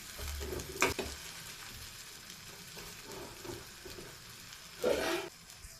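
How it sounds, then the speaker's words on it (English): Spicy red omelette with onion frying in a pan, steady soft sizzle with a couple of louder bursts as it is stirred or shifted. "This omelette is almost cooked, so I have to change the side."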